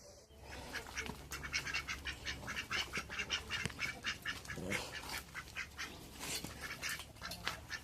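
Ducks quack in quick, repeated bursts close by, several birds calling over one another with a low background hum.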